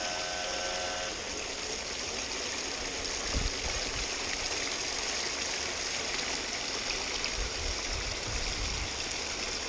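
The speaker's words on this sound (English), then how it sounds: "If you hear that noise, that's the pump playing up." A noisy, faulty water pump runs at a creek, a steady rushing splash of water with a low rumble, moderately close and continuous, no talk.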